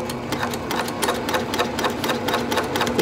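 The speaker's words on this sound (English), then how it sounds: "I switch to basting stitch length, and then I just sew down" A sewing machine runs a long basting-length seam on a handbag exterior, its needle clattering in a fast, even rhythm close by and without pause.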